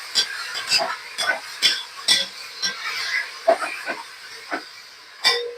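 Meat is stirred into sinigang soup in a pot, with a spoon scraping and knocking against the metal in a dozen or so close, irregular strokes over a soft steady hiss, no voices.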